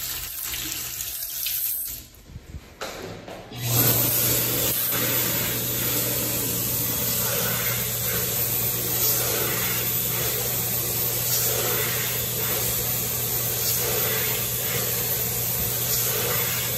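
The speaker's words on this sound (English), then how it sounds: "They have a Dyson Airblade DB at an Indian restaurant." A Dyson Airblade dB hand dryer in the restroom of Saravanaa Bhavan, an Indian restaurant in Sunnyvale, California, blasts a loud, close, steady rushing roar. A brief uneven start gives way to continuous running.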